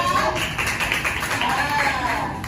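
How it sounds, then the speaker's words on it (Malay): Classroom applause for a student during a micro-teaching lesson: a dense, steady patter of many hands clapping together for a couple of seconds, fairly loud and close. "Beri tepukan untuk Aisyah."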